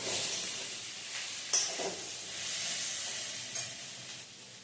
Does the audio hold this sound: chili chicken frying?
yes